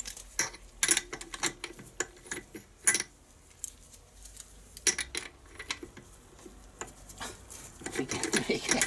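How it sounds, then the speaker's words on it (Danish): Metallic clinks and scraping clicks come from a spark plug being removed from a Briggs & Stratton Quantum engine, with irregular close taps and rattles, short pauses, and a few faint murmurs. "Tændrør tager vi lige ud."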